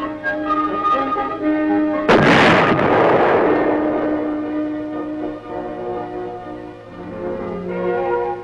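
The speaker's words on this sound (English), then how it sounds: "record the motion of the gun barrel with respect to the entire vehicle as the projectile leaves the muzzle and the weapon recoils" An armored vehicle's gun fires a projectile during weapons testing at Aberdeen: one loud, sharp blast whose booming echo decays over several seconds, over a steady tonal engine or machinery drone that carries on throughout.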